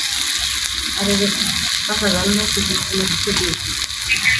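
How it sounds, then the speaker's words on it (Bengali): Onion and garlic fry in a pan with a steady, fairly loud crackling sizzle, while a voice speaks briefly over the cooking noise. "পেঁয়াজ দিচ্ছি রসুন দিচ্ছি"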